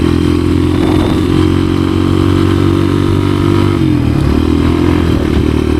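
A 1986 Honda XR200R dirt bike, its idle problem newly fixed and its clutch slipping slightly, roars loud and close while ridden, a steady engine drone with brief shifts in pitch and a faint clatter throughout.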